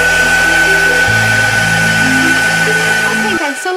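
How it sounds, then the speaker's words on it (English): A heat gun blows steadily and loudly up close, drying gesso on a paper bag cover, its whirring tone shifting partway through before it cuts off at the end. "my heat gun on and just dry off this gesso"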